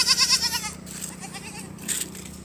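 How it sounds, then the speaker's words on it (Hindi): A small herd of village goats in rural India bleats in quick, wavering cries, loud and close at first, then softer calls follow with no voices. "यही 5-6 बकरियां हैं।"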